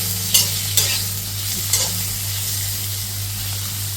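Turmeric and spices fry in hot oil for a pork dish, giving a steady loud sizzle with a few sharp stirring scrapes near the start and no talking.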